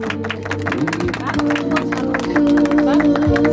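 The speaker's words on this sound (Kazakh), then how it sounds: "Дуғыл шапалақтап отырамыз" A crowd claps steadily in rhythm at a Kazakh Nauryz celebration in Tobol. Sustained tonal music and voices continue underneath the clapping, which holds at a constant close level throughout.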